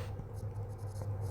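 A pencil writing on paper for a Class 5 English letter: soft, steady scratching strokes with faint rhythmic pulses, close and quiet over a low background hum, with no talking.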